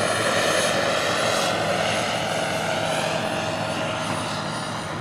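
A model helicopter's turbine engine runs, a steady, high whining roar with a deep rumble underneath, loud and close, holding constant throughout with no voices.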